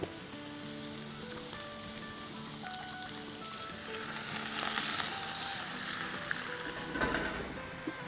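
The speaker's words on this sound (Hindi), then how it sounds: "ज़रा सा सॉटे करेंगे और अब इसमें हम डाल देंगे अपनी गर्मा गर्म नूडल्स।" Hot wheat noodles sautéing in a pan with oil, a steady sizzle and frying hiss that swells louder midway with scraping stir sounds, no talking.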